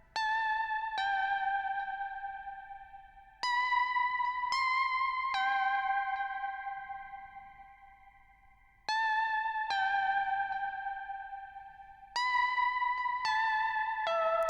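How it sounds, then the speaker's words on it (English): A delay effect applied while mixing sends bright synth-like tones repeating in echoes, each hit ringing out and decaying before the next sharp onset, loud and steady with no voices. "What does it sound like with delay?"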